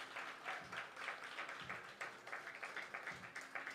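A slam poetry audience applauds a poet in an uneven, pulsing round of clapping that sounds faint and somewhat distant throughout.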